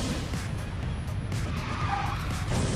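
Car drifting and skidding in the racing video game Speed Drifters, a steady loud engine roar with tire noise running continuously throughout, no voices over it.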